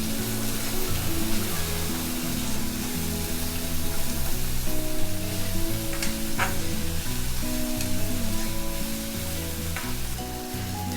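Onions fry in hot oil with kasuri methi and cumin for aloo gobi masala, giving a steady, close, even sizzle under a background music track.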